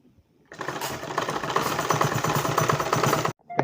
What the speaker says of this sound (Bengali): আমরা এভাবে সেলাই করে নেব।